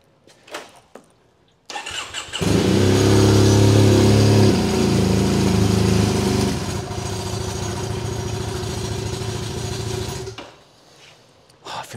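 A Triumph T120 Bonneville motorcycle with a six-month-old battery and the choke on cranks briefly and fires up, settling into a loud, steady idle close by for several seconds before cutting off.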